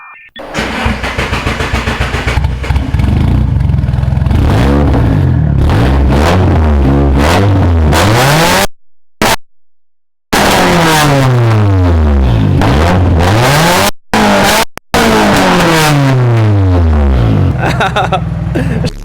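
A turbocharged SR20 engine in a drift car revs hard again and again, with loud close sweeping rises and falls, a few sudden cutoffs between pulls, and occasional talk in the background.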